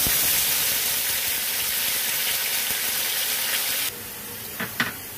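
Onion paste sizzles and hisses loudly in hot oil in a pan with bay leaves and dried chillies, a steady broadband fry that drops abruptly quieter near the end, followed by a couple of faint stirring clicks.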